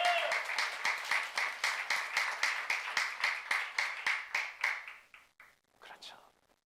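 A church congregation at a youth worship service claps together in steady, rapid applause that stays loud for about five seconds, then thins out and fades into a few scattered claps.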